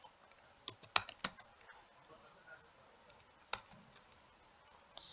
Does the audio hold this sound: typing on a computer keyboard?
yes